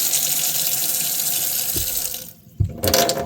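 Water gushes steadily from a hot-and-cold tap into a camper trailer's double sink, run to purge air from the lines. It breaks off briefly near the end with a few clunks, then resumes strongly.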